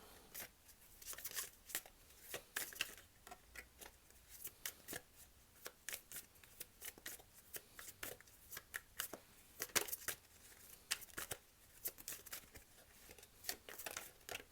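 A Thoth tarot deck is shuffled by hand, producing repeated crisp riffling and card-slapping bursts in an irregular rhythm, close and fairly quiet, with no talking.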